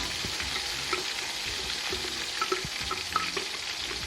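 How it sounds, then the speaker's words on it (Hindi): Onion, green chilli and coriander paste frying in a pan for a black chana curry, a soft steady sizzle with small pops and occasional stirring clicks, close but quiet. "तो उनको भी थोड़ा सा फ्राई कर लेंगे।"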